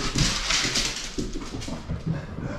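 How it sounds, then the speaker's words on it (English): Several excited dogs whimpering and yipping while playing with the zoomies indoors, a close, restless series of whines, pants and scuffles, with no talk over them. "I got crazy dogs here."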